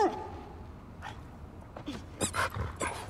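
A dog in The Last of Us Part 2 whimpers and gives short growly huffs and yips close by, scattered irregular bursts over a quiet background.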